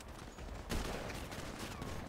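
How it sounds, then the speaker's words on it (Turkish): Quick bursts of gunfire in the video game GTA 5 crackle over a noisy background, a short rapid volley near the middle, muffled and low in level. "silah sesi geliyor"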